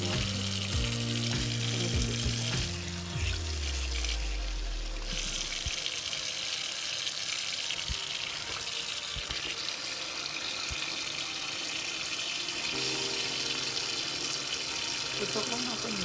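Tap water running over cabbage slices in a kitchen sink, a steady faint hiss and splash that continues throughout with brief handling noises.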